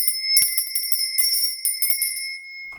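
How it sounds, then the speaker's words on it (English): A small hand bell rings with a bright, high, pure tone. It is struck in a quick series of shakes, then the last ring fades out. "So I will be actually ringing my lady bell"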